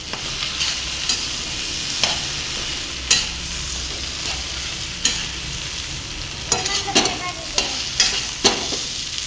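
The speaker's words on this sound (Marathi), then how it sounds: "कोथिंबीर ही चांगली मिक्स करून घ्यायची" Spatula stirring fresh coriander into a sizzling spiced potato filling for Maharashtrian vada pav, a constant close frying hiss broken by regular scraping strokes and clustered knocks against the pan, no voices.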